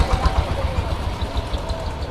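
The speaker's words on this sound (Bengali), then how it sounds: "এই যে গরু নিয়ে আসতেছে আরো ট্রাকে ভরে" A truck carrying cattle arrives at a livestock market, its engine a steady low pulsing rumble close by, with faint background bustle.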